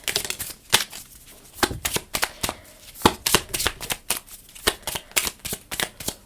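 Tarot cards are shuffled repeatedly up close, a rapid series of crisp riffling snaps and slaps in irregular bursts.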